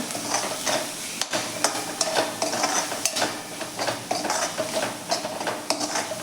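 Spices are stirred into a veg pasta mixture in a pan, with a continuous sizzle punctuated by repeated scraping and clinking of a spoon against the pan, no talking.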